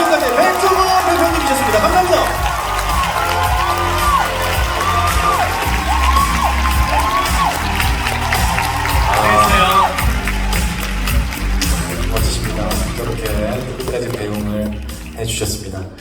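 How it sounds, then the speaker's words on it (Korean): A crowd at a live variety show applauds and cheers loudly, with whoops and shouts over continuous clapping and music-like tones, while voices carry on over the din. "여러분 뜨거운 박수 부탁드립니다"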